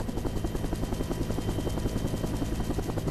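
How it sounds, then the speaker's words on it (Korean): Military helicopter climbing to altitude during a Korean Marine high-altitude infiltration training flight, its dense rotor thump and turbine roar steady and loud throughout, heard from close by with no voices. "점점 더 높은 곳을 향해 오르는 헬기."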